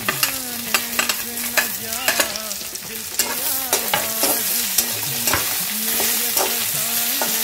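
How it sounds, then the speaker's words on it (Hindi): Potatoes and onions fry in a pan for a moringa drumstick curry, with a continuous moderate sizzle broken by repeated rhythmic spatula scrapes and taps against the pan. "और हल्का सा फ्राई करेंगे।"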